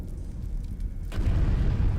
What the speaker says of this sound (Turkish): Yine patlamalar patlamalar var.